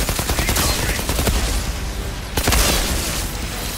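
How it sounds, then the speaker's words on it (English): Gunfire from a shootout in the Outriders video game, with dense, continuous crackling bursts throughout and a sharp louder blast near the middle, layered over game music and effects. "Guess it's shoot first, questions later!"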